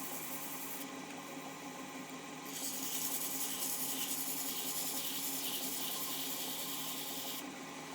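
Fine 320 grit Yorkshire Grit sandpaper rubbing across cherry wood, a steady soft hiss that brightens and grows slightly louder midway, continuous and close with no talking.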